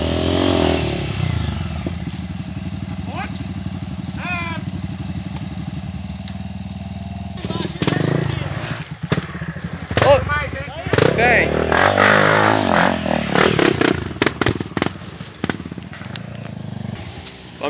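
A trail motorcycle idles and chugs on a dirt trail, then revs and crackles hard as it pushes through obstacles, with uneven bursts of throttle. People talk over the engine throughout.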